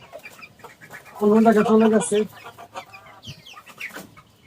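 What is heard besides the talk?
chickens clucking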